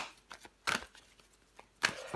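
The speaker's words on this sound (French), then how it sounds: "On va recouvrir des cartes." Tarot cards flipped over onto a table, two crisp papery flicks about a second apart with faint rustling between, close and fairly quiet.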